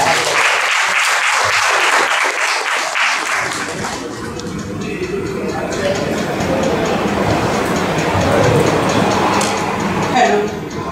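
Applause for Swati Chandorkar at a Tilgul ceremony gathering: a crowd claps loudly and steadily for several seconds, then the clapping thins into a murmuring hall with scattered claps and voices.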